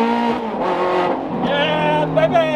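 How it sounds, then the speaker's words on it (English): A car's engine roars loudly from inside the cabin while driving in traffic, a sustained harmonic drone rising and falling in pitch as it revs, steady and close throughout. "The car is so loud"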